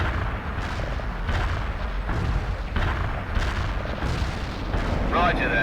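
Heavy artillery fire in the video game World in Conflict, a run of deep booming blasts rolling one after another and loud throughout, with a brief tonal radio-like sound near the end.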